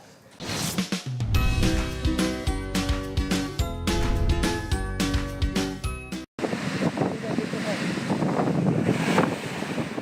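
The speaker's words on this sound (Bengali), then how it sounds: "বাঁধভাঙা ঢেউ আছড়ে পড়ছে বালুকা বেলায়।" Strong cyclone winds from Cyclone Remal buffet the microphone on the coast as waves crash onto the sandy beach, a loud continuous roar with gusting rumble.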